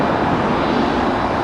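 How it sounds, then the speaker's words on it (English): A Boeing 747-8 freighter taxiing a few hundred feet away gives a loud, steady, broadband jet engine roar that holds an even level throughout, with no one talking. "The 747-8 freighter taxiing literally only a few hundred feet away from us."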